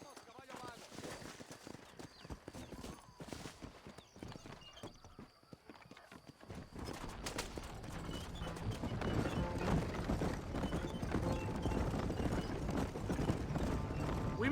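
Horse hooves clip-clop steadily in Red Dead Redemption, the rhythmic beats growing louder and denser after the first half as the ride picks up, mixed with a whinny and a voice talking over the trotting.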